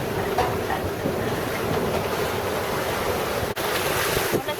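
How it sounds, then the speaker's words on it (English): Heavy, sloppy sea waves driven by an east wind while sailing off Marseille on the way back in a big swell, a steady loud wash of surf and roaring wind buffeting the microphone, with no voices. "the seas are really heavy and sloppy from the east wind"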